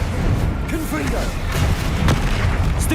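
Confringo blasting spells detonate in Hogwarts Legacy during a troll fight, heavy booms and crashes stacked in quick succession with game effects, a voice talking over them.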